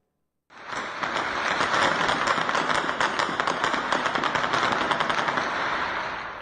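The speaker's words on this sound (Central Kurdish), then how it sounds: "ئەو تەقە گەرمێ ئێستا دەیبینن کاتی شەڕەکەیە" Heavy, sustained gunfire from a clash between two families in the New Erbil neighbourhood of Erbil, sounding as a dense, continuous rattle of rapid shots that starts abruptly and keeps going at full volume, with no talking.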